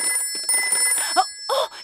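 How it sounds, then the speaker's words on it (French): A cartoon emergency telephone in a Peppa Pig episode rings in bright, repeated electronic bursts, with a louder final burst near the end; no talk over it. "Oh, c'est le téléphone pour les cas d'urgence."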